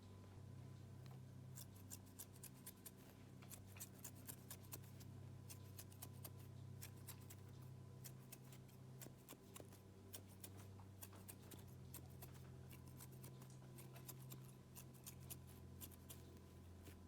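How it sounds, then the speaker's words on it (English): Thinning shears snip through a dog's coat during grooming, a steady run of quick, soft metallic clicks over a low background hum, close and fairly quiet with no voices. "I just go through it with the thinning shears"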